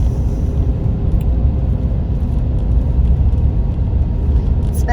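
A car drives along a road toward a campground in Withlacoochee State Forest, a loud, steady low rumble of engine and tires heard from inside the cabin, with faint higher rattles near the end.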